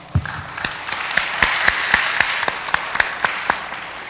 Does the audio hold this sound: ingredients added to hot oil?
no